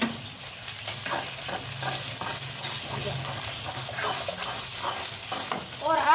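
Onion, garlic and ginger fry lightly in a pan with a steady crackling sizzle, broken by the scrape and clatter of stirring throughout.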